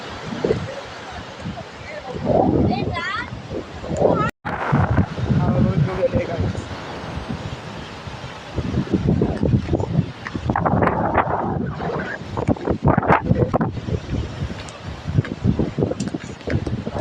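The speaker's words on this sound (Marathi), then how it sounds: "हवा बघ केवढी आली आहे." Strong wind buffets the microphone outdoors on a trip from a village to Mumbai, a loud, gusting low rumble that rises and falls throughout while people talk over it.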